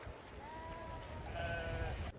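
Sheep bleat in a Tibetan herders' flock, several overlapping calls at mid distance rising over a steady outdoor rumble of wind and ground noise.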